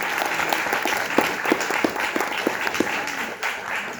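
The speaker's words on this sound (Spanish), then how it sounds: "Un aplauso, por favor, para" Steady audience applause at an event, dense clapping from a crowd filling the whole stretch with scattered louder claps standing out, no voices over it.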